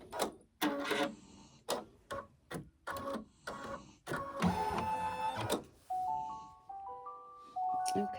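Embroidery machine stitching an Easter Peeps design: close, sharp mechanical clacks and whirring bursts in an uneven rhythm, then a series of electronic beeps stepping in pitch at the end, with no talk.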